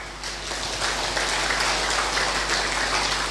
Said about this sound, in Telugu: so claps to Patri sir